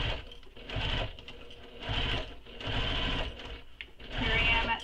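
A domestic sewing machine stitches through thin vinyl and over a D-ring on a crossbody bag, running in several loud, close bursts with short pauses between them.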